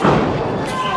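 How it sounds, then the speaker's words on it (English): Heavy body landing in a wrestling ring during an independent WrestleMax event: a loud, dense thud at the start with a booming low rumble that lingers under crowd noise and commentary for the rest of the second. "Disgusting drop kicks from MERC."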